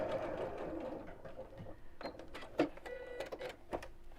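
Sewing machine running a quick stitch across a bag, moderately near, with a steady mechanical whir broken by a few sharp clicks and thumps, no speech.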